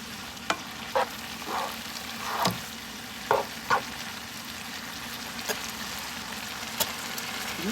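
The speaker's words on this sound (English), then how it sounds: "Here's the green beans. They frying up real good." Green beans sizzle steadily in a pan, with occasional sharp pops and a few scraping clinks as they are stirred.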